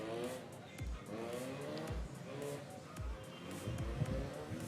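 Race cars at a regional autocross championship run the course, engines revving and fading as they pass with repeated tire squeals, moderately distant, while a voice talks over the action.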